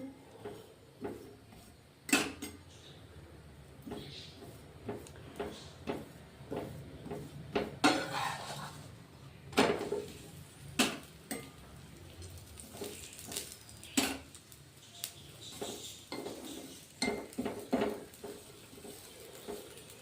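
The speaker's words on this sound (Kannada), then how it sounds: "ನಾನು ಎಣ್ಣೆ ಹಾಕಿ ಬೇಯಿಸ್ಕೊತಾ ಇದ್ದೀನಿ" An onion and tomato masala paratha cooks in oil on a pan, with intermittent clinks, taps and scrapes of utensils against the pan over a faint background hiss.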